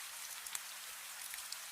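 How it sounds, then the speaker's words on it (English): Soft, steady rain patters on window glass in a cozy café, a faint, even hiss of drops with occasional slightly sharper taps, quiet and continuous with no voices. "Rain taps gently against the glass behind them"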